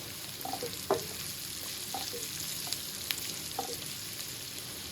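Onion, garlic paste and tomato frying in a pan, a low steady sizzle with a few sharp spatula scrapes and clicks, close and fairly quiet, no voices.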